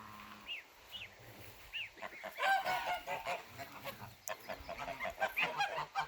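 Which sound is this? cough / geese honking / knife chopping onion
geese honking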